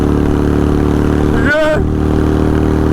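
A 750cc shifter kart engine running loud and close, a constant heavy harmonic drone with a brief dip in the middle as the revs change.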